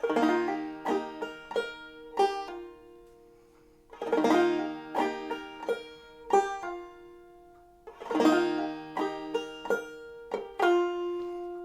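Clawhammer banjo plays the first measure of a song three times in a row, bright plucked notes and brushed strums ringing out clearly with no talking.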